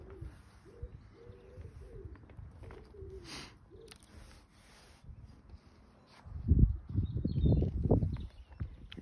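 Birds sing and coo faintly around a flower garden where marigold seedlings are being potted, the calls growing louder and busier near the end with low rustling underneath.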